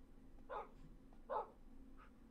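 Dogs barking in a video game: two clear, fairly quiet barks about a second apart, followed by a fainter third yelp, over a low steady background hum.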